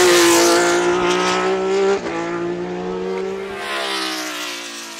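A 1972 Ferrari 312PB race car at speed, its engine a loud, sustained, high-pitched howl with a steady harmonic tone, shifting pitch slightly midway and staying close throughout with no talk.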